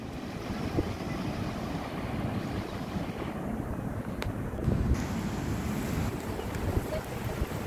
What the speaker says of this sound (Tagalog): Oh, lalaki ng alon, oh.